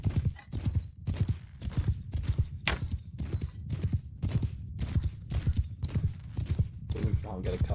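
Cavalry horses charging in Mount and Blade Bannerlord, a dense, continuous drumming of many hooves in a fast rhythmic gallop, loud and close throughout.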